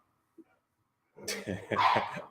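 Several dogs, among them a 100-pound Labrador, break into a close burst of barks and yips after a near-silent pause, loud and overlapping for about a second.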